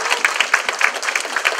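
A standing audience claps at a state senate campaign launch rally, a brisk, even patter of many hands with distinct sharp claps, close and lively, with no voices over it.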